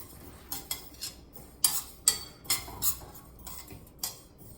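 Aachar is toasted lightly in a pan with a utensil, giving a series of sharp metallic clicks and scrapes at uneven intervals, quiet and close, with no talking.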